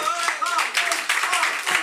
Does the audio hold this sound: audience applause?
yes